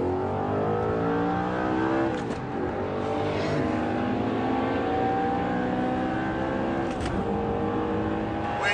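A 415-horsepower Audi R8 weighing about 1,500 kg accelerates hard, its engine note climbing steadily through the gears with brief dips at each shift, loud and close throughout.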